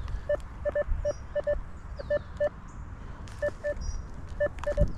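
Intermittent electronic beeps from a metal detector swept over a rubbish-strewn construction site, sounding in short irregular bursts of single and paired tones over low background rumble, with no speech.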